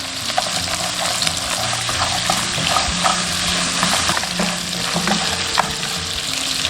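Pork ribs sizzle steadily in caramelized rock sugar in a wok, with continuous loud frying hiss and scraping stirs throughout, no voices.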